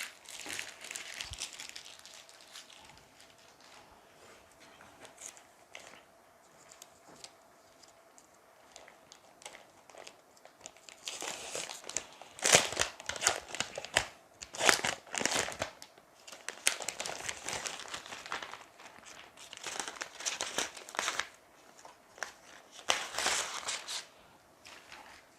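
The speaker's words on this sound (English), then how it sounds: "now let's remove the plastic holding up the antennas" Plastic wrapping crinkles and crackles as it is pulled off the seven antennas of a Xiaomi AX3600 WiFi 6 router, in uneven close bursts that grow busier partway through.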